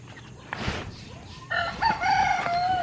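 A rooster crows once, fairly close and clear, after a few soft clucks and rustles from chickens in a rural yard.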